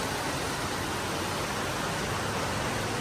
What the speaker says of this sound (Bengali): আকাশ ভেঙে বৃষ্টি